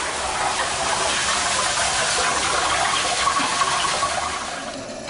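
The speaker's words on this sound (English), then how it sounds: "Now the deluge valve is activated." Steady, loud rush of water gushing through an activated fire sprinkler deluge valve, a continuous broadband roar that holds for the whole stretch before easing slightly at the end.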